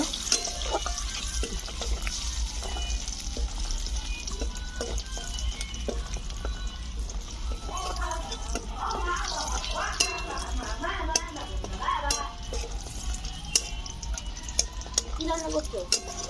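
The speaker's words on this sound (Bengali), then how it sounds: "তারপর ভেজে নেওয়া হচ্ছে বড়িগুলো" Lentil bori frying in a small amount of oil for a Bengali lau chingri dish, with a steady soft sizzle and occasional stirring clicks throughout, while a voice talks over it.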